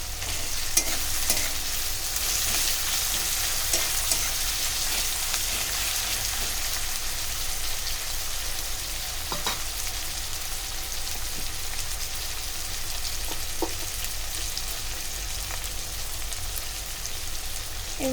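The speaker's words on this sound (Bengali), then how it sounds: "পেঁয়াজের সাথে আমি চাপা শুটকিগুলো রেখেছিলাম ধুয়ে, এগুলো দিয়ে দেবো। এর সাথে ভাজা ভাজা হয়ে যাবে।" Chepa shutki (pressed dried fish) frying with onions in a pan, giving a steady, dense sizzle with light crackle that holds evenly throughout, close up and with no voices.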